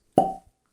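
A single short, hollow pop, close and fairly soft, as a cork is pulled from a bottle of Clynelish Select Reserve whisky, followed by silence.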